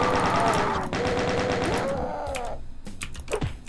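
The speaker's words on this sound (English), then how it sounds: "he chose to shoot me" Rapid gunfire in the Doom game (1997 CHORD1 WAD), a dense burst of repeated clattering shots over about two seconds, then a few scattered louder bangs near the end.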